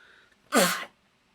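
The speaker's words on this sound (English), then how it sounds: "Sorry, I didn't mean to sneeze in your ear." A single sharp human sneeze bursts out close to the microphone, loud and brief after a quiet moment.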